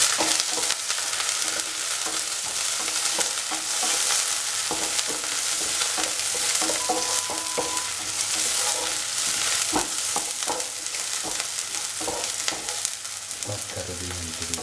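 Garlic, green chili and shallots sauteing in a pan for a green gram coconut stew, a loud steady sizzle with frequent crackles and stirring scrapes throughout.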